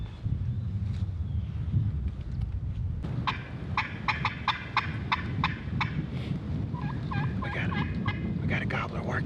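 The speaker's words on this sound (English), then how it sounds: "He's gobbling down in this bottom." A wild turkey gobbler in Iowa gobbles in a bottom during a hunt, a rapid rattling call repeated two or three times at moderate distance over steady wind noise.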